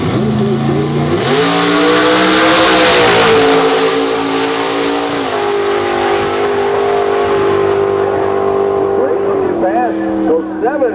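A Pontiac nitrous outlaw street car screams down a drag strip at full throttle, its engine note climbing through gear changes in a loud, sustained roar, while an announcer talks over it.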